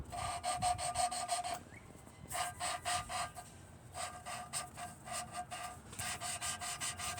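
Valves of an IH 300 Utility tractor being lapped by hand with grinding compound: close, rhythmic back-and-forth rasping strokes in quick bursts, with a short pause partway through.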